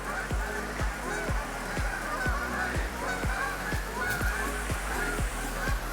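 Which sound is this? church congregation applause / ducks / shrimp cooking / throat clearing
ducks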